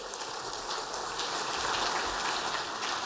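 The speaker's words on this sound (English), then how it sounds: "Give Chris a round of applause" Sustained applause from a conference keynote audience, dense and continuous clapping that fills the whole moment at a steady, fairly loud level with no talk over it.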